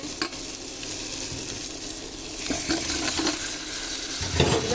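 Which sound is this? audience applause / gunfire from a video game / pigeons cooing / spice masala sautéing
spice masala sautéing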